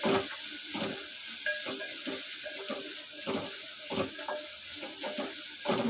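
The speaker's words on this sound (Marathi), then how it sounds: "कांदा आणि कढीपत्ता आणि हे आलं लसूण एकत्र टाकायचं आणि चांगलं ढवळून घ्यायचं" Chopped onion, curry leaves, ginger and garlic fry together in a pan for mushroom masala, a steady sizzle running throughout with repeated scraping stir strokes close by.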